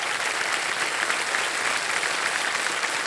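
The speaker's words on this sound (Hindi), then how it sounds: "एक बार जोरदार फिर से ताली बज जाए उनके लिए" A studio audience on a televised quiz show claps steadily and densely for about three seconds, a full, even wash of applause with no voices on top.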